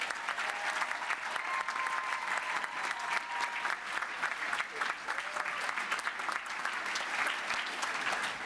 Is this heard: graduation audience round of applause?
yes